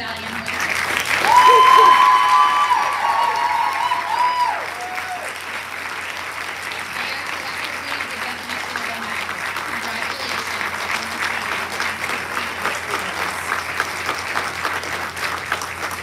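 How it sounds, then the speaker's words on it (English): Audience applause for faculty medallion winners at a senior awards ceremony, a broad steady clapping crowd with a cheer or whoop rising early over it, then the clapping carrying on evenly to the end. "One more round of applause for these faculty medallion winners."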